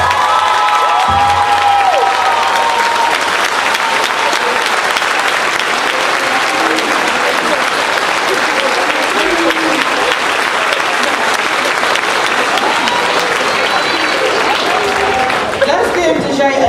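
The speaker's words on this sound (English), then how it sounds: "Let's give Deja another round of applause." School convocation crowd in the Chester Upland School District breaking into sustained applause with some cheering and shouting, loud and continuous, with voices and a faint tonal sound mixed in.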